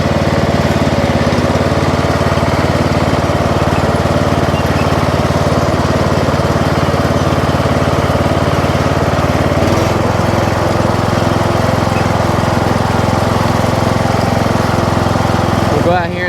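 A Craftsman riding mower engine running steadily, a loud, constant droning hum with a slight shift in pitch partway through, recorded close by.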